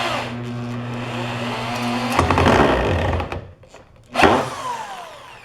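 A 2.5-inch screw driven into a wooden dowel for a trebuchet build, a motorized tool whirring steadily and then straining as the screw bites, followed by a brief pause and one more short burst.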